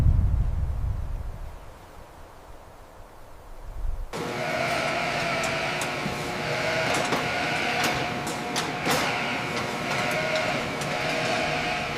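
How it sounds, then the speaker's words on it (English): A large flock of Dorper sheep on a big farm at sunrise bleats in a dense, continuous chorus that starts abruptly after a few seconds of quiet outdoor rumble, loud and close. "sunrise over the massive Dorper sheep farm"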